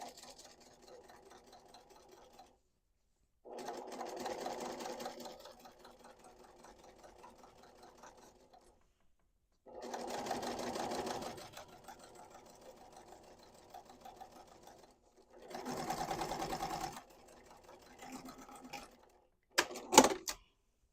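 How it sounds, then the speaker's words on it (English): A sewing machine topstitching along the folded edge of a quilted cube bag runs in several steady bursts of rapid needle chatter, with softer slow stitching and pauses between runs, close and clear. "I'm going to top stitch an 1/8 of an inch away from that folded edge."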